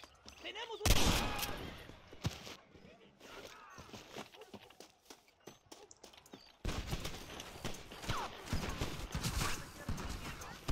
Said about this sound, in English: Who is shooting now?